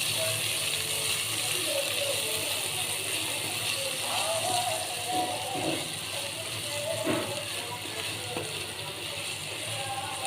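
Chopped onions fry in a pan for an eggplant kara kuzhambu, giving a steady, close sizzle that runs the whole time with faint clinks of stirring.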